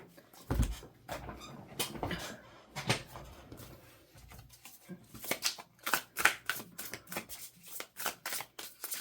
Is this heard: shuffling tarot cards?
yes